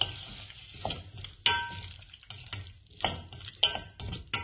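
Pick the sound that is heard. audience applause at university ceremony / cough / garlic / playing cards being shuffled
garlic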